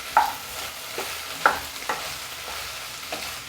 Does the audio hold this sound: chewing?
no